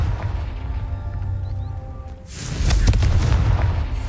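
In Hogwarts Legacy, the Confringo blasting spell goes off after a low rumbling lead-in, landing as a loud booming explosion with crackling debris that trails off over a couple of seconds.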